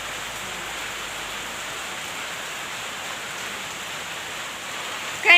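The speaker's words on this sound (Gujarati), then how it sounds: "ચાર વાગ્યા હજી એક ધારો વરસાદ શરૂ છે" Steady, continuous rain falls as an even, unbroken hiss at moderate level, with no voices, and a brief louder bump right at the end.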